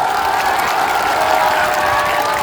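Dense, steady applause from a large crowd at a political rally in Bihar, loud and continuous with a faint background cheer throughout.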